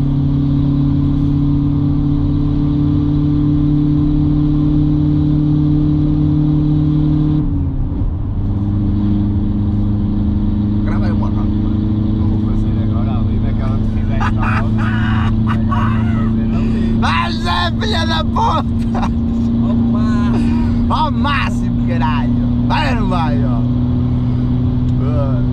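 A Seat Leon 5F with a 1.6 TDI 105 hp diesel, fitted with an upgraded 1756VK turbo and reinforced clutch, drones at a steady idle, then its pitch steps up as the engine is revved, while people talk over it nearby.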